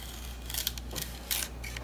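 An X-Acto knife trims a model fuselage in a few short, crisp scraping cuts over a steady low background hum, close by and fairly quiet.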